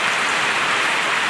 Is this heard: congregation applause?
no